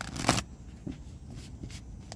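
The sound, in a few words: tarot cards being shuffled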